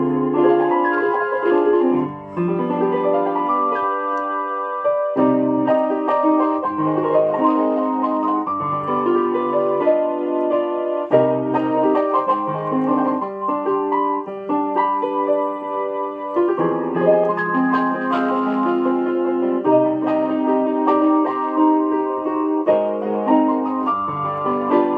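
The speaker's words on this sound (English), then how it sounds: "back then it was a stereo grand piano" Vintage Casio CT-650 keyboard playing its stereo grand piano tone, a continuous melodic passage with chords and runs, clean and close for about twenty-five seconds with no talking.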